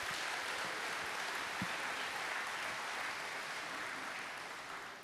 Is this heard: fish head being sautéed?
no